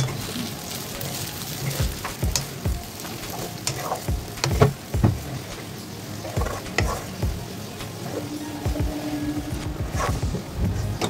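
Onions frying in a pan give a continuous crackling sizzle with frequent stirring scrapes and spatula knocks, up close and fairly loud throughout, with no voices.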